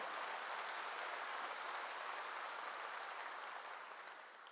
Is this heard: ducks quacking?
no